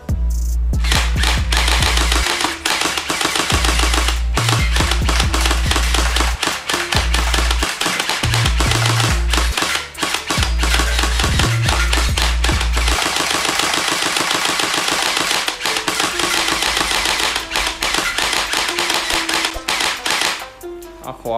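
An AKM gel blaster toy gun fires gel balls in loud, rapid bursts of sharp clacking shots that run almost continuously, with brief pauses between strings of fire.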